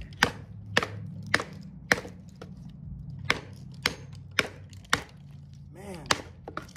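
A Wenger Wolverine knife blade strikes wood in sharp, hard chops, about a dozen spaced irregularly over several seconds, close and loud against a low background hum.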